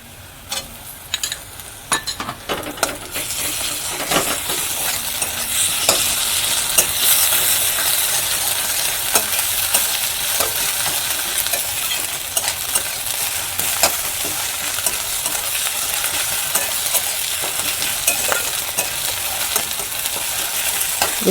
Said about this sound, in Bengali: এবার আমি 1 চামচ রসুন বাটা দিয়ে দেব